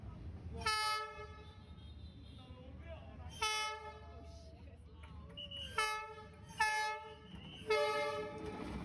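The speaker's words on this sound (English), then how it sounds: "The train is coming from over here in like 10 minutes." A train on a track through Hanoi sounds five loud, blaring horn blasts at uneven intervals over a low rolling rumble of the passing train.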